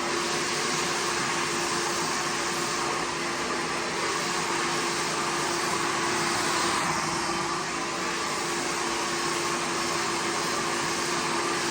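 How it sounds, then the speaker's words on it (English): A hair dryer blows continuously at close range during hair styling with a round brush, a loud, even whoosh with no pauses and no talking. "Now I know I am not supposed to put the hairdryer that close to my hair"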